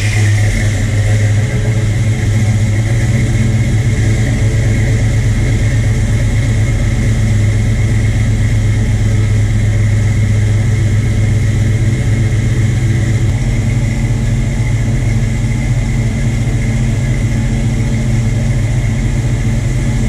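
A Dodge Ramcharger 4X4's engine, fitted with Holley Sniper fuel injection, runs at a loud steady idle close by, a constant deep rumble with a droning hum that continues unbroken throughout without any speech.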